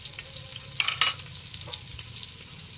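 Chili peppers frying in a pan for a spicy Filipino jackfruit dish in coconut milk. Steady close sizzle runs throughout, with a few sharp pops and crackles near the middle.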